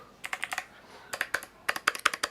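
Keys on an 8BitDo mechanical numeric keypad are pressed in quick bursts, with crisp, close clicky keystrokes in two or three rapid runs and short pauses between them.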